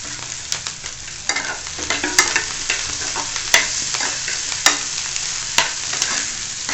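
Onions fry in a pan with a continuous close sizzle, broken by sharp, regularly spaced scrapes and taps of a spatula stirring them. There is no talking.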